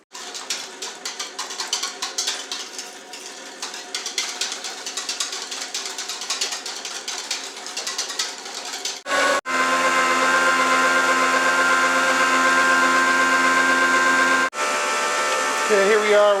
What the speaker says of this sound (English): it's starting to make a hard churn here